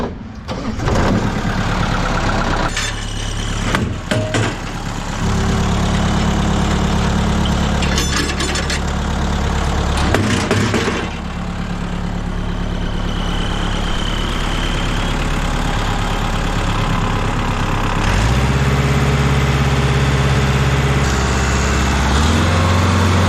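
Stump grinder engine running at a steady loud roar throughout, with pitch and load shifting at several points and a deeper heavy rumble near the end; close and continuous.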